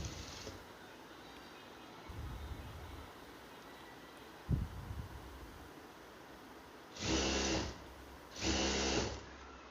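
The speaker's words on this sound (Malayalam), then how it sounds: "ഇതേ തുണി കൊണ്ട് തന്നെ നമുക്ക് വള്ളിയും അടിച്ചെടുക്കാം" Sewing machine stitching a folded cloth strap for a homemade face mask, two short bursts of stitching near the end, close and fairly loud, after quieter handling rustles and a soft knock.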